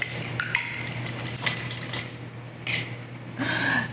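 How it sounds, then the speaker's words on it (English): Metal cutlery clinks and scrapes against a dish as one egg is beaten, in brief irregular bursts of tapping over a steady low hum, close and moderately loud. "I have 1 egg that I'm just going to beat."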